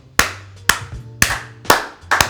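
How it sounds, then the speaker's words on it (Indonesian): A person claps their hands five times, with sharp, evenly spaced claps close by, separated by short pauses and a low steady hum underneath. "Saya mau tepuk tangan dulu."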